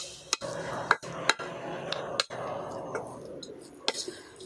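A spoon stirs beetroot palya in a pan, with several sharp metallic clinks and scrapes against the pan at irregular intervals over a soft sizzle, close by.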